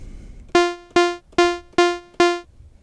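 Synth pluck preset built in U-he Podolski with Valhalla Supermassive reverb: five bright, evenly spaced plucked notes at one pitch, each with a sharp attack and quick decay, heard alone and clearly.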